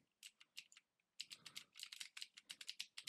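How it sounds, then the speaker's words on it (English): Rapid computer keyboard typing, close and dry, in irregular bursts of clicks with a brief pause before a denser, faster flurry of keystrokes. "Sorry if you heard my keyboard."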